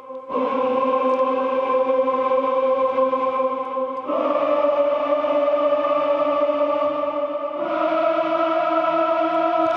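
Sustained synthesized choir chords from the Native Instruments Jacob Collier Audience Choir instrument, run through a compressor, holding three steady, loud harmonic chords in turn with clean shifts between them and no voices over it.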